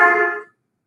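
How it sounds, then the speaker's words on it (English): A single car horn blast, a bright buzzy harmonic tone lasting about half a second that fades and cuts off, followed by silence. "The horn to you might sound something like this."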